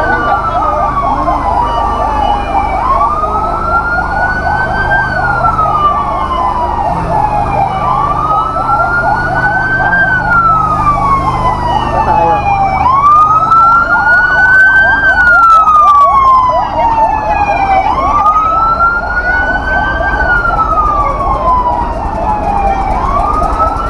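Fire truck sirens wail in long rising and falling sweeps at a market fire in Santa Cruz, Laguna, loud and close, repeating about every five seconds over a busy street rumble.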